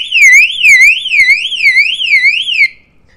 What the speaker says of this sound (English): that alarm's gonna go off